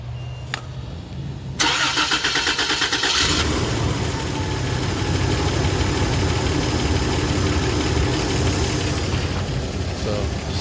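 A 1991 Toyota Land Cruiser engine cranks briefly, catches with a loud burst and settles into a steady, close idle that runs to the end.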